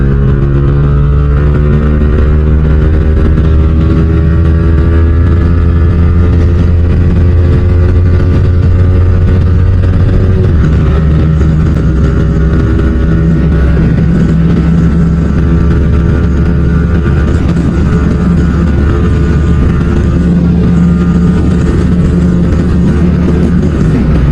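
Yamaha R15 V4 motorcycle with a modified exhaust, loud and close, holding a continuous throaty engine note with rising and falling revs throughout, no talking over it.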